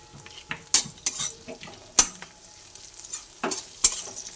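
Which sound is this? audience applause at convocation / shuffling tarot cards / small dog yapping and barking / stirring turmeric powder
stirring turmeric powder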